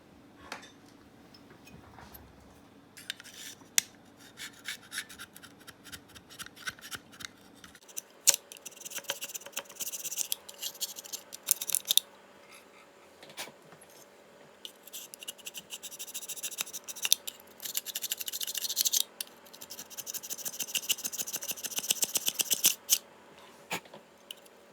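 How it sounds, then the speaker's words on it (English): Old gasket material scraped off a Campbell Hausfeld air compressor valve plate, with bursts of close, scratchy scraping strokes separated by short pauses and small metallic ticks, no speech. "That all needs to be scraped off for the gasket to get a good seal."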